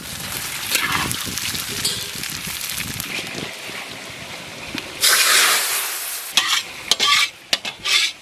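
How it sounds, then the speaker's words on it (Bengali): Cumin, bay leaf and dried chilli crackle and sizzle in hot mustard oil in a kadai, a steady close frying hiss with a louder burst midway and a few sharp spits near the end. "ফোড়ন দিয়েছি আর একটু ফুটিয়ে নেব।"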